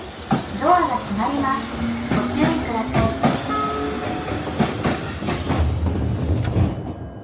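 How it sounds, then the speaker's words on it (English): A train on a Japanese local line passes by with a rumbling roll, rhythmic clacks and a tonal whine. A voice is heard as well. "I also spotted a train that I've never seen before passing by."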